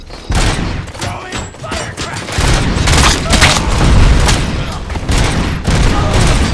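Firecrackers go off in RoboCop: Rogue City in rapid, irregular bursts of sharp pops and booms, loud and close, crackling densely over several seconds with some game voices mixed in.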